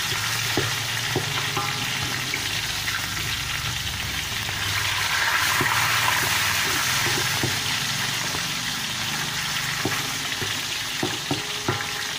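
Steady, dense sizzling of fish frying in hot oil fills the whole stretch, with occasional pops and clinks of a utensil against the pan.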